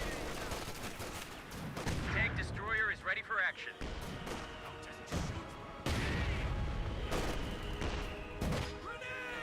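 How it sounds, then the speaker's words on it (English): A rifle grenade fires in a Company of Heroes 2 match, a loud sharp blast among repeated explosive bangs and gunfire thuds throughout, with someone talking over the battle noise. "Rifle grenade fired."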